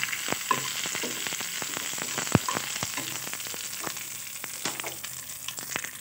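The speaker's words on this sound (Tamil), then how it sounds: "அந்த இலையை வந்து நெய்யோடு நீங்கள் வந்து வதக்கணும் சரிங்களா." Pomegranate leaves sautéing in ghee in a pan give a steady close sizzle and frying crackle, broken by sharp stirring clicks and scrapes throughout, with no voices.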